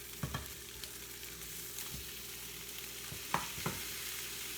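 Lasagna ingredients sizzle in a pan on the stove, a steady low crackle with a few sharper clicks and scrapes of stirring, close by and with no talk.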